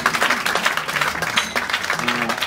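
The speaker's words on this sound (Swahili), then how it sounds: "Pigia Yesu makofi mazuri." Church congregation clapping for Jesus at a 21st anniversary service, a dense steady patter of many hands throughout, loud and close, with talk and voices mixed in underneath.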